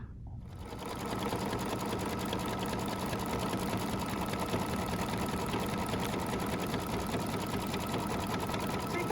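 An embroidery machine stitching satin stitches over a topper on a towel, a steady close mechanical whir with fast needle chatter that starts up and runs continuously without talk.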